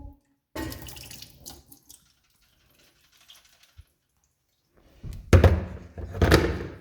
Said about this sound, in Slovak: Vylejeme vodu.